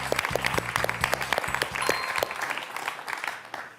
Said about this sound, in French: Jean-Marc, je vous applaudis